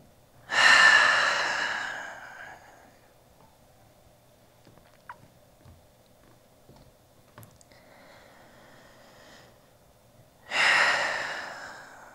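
Two deep, audible exhalations during a trauma-informed yoga practice, one near the start and one near the end, each a long breathy rush fading out, separated by quiet room tone with faint small sounds.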